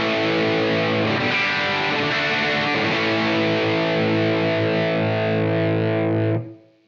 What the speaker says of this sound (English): If you actually engage the boost before the preamp, you'll actually get more gain